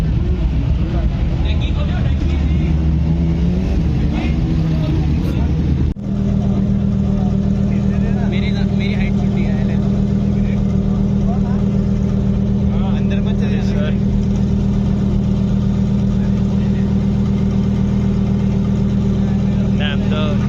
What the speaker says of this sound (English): Damn, the twin turbo V10, crazy good.